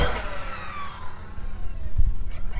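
A Team Corally Spark XB6 RC car whines and revs while driving and jumping on cold pavement, its motor pitch sweeping and shifting, with a thump near the end, no voices.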